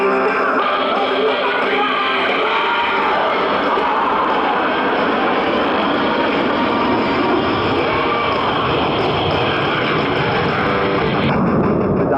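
Blue Angels jets in diamond formation accelerate through a descent, making a loud, continuous, roaring engine wash that holds steady throughout with no voices.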